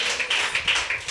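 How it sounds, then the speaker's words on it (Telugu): A congregation at a fasting prayer service in Korangi claps in quick, rhythmic bursts, a short run of several even beats at moderate distance. "గట్టిగా చప్పట్లు కొట్టండి."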